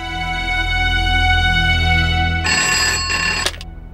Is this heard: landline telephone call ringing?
yes